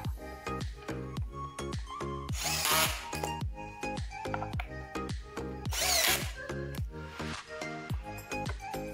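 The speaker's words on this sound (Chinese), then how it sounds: "在家自己组装 DIY 的小凳子呢，一点都不困难，只要你有 Riino 的无线电钻就可以啦。" A Riino 3-in-1 cordless drill drives screws while a small wooden stool is assembled, its motor whining in repeated short bursts with brief pauses between, close and loud with no talking.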